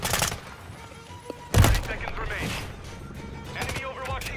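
Gunfire from a sentry gun in a first-person shooter video game: a short burst at the start, then a louder crack and ongoing rattling shots with scattered impacts, over ambient game noise with some voice.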